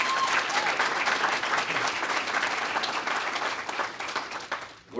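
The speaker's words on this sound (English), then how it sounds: "So I think that's worth some applause or something." At the East Alabama Chamber of Commerce 2022 annual meeting, a roomful of attendees claps in a loud, even burst that holds steady for several seconds before dropping off abruptly at the end.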